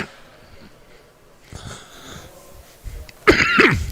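A race commentator coughs and clears his throat several times close to the microphone during a motorsport podium ceremony, with scattered sniffing before a louder cough burst near the end.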